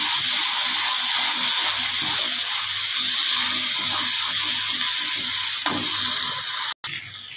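Aar fish curry cooks in a pan with ginger, cumin and coriander paste, giving a steady close sizzle with soft scraping strokes as it is stirred.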